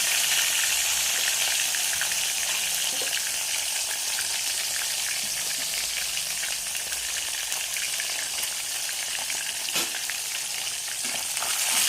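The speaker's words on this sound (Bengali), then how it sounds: "একটা একটা করে ভাজলে কি মাছটা ভাজা ভালো হয়।" Fish fries in hot oil in a small pan, a loud continuous sizzle with dense popping and crackling that holds steady throughout, with no voices.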